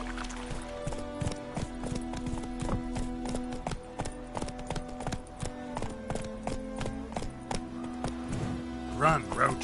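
Roach the horse galloping in The Witcher 3, a steady run of hoofbeats over a low hum of game music, with people talking above it.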